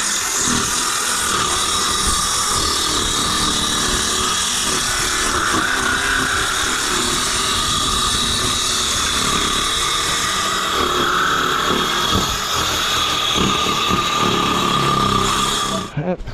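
A battery-operated power tool cuts through a wood deck joist during tank and deck removal, a loud, steady grinding and whirring that runs almost unbroken for about sixteen seconds before stopping abruptly, with no voices over it.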